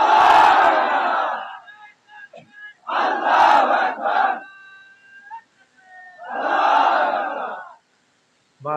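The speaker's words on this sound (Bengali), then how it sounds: "জোরালো তাকবীর দেন তো দেখি একজন" A crowd at a religious gathering shouts the takbir in loud unison bursts, three big collective chants separated by short pauses with a few scattered voices between them.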